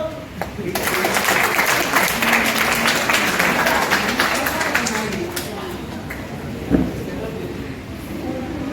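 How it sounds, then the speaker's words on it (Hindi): Audience applause at a school magic show, a steady, dense wash of clapping from a crowd that fades slightly toward the end. "ताली बजा दो"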